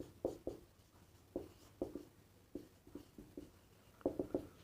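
A teacher writes a roster form on a classroom board, the marker or chalk making short scratchy strokes in quick clusters, with brief pauses between groups of marks, close and fairly quiet.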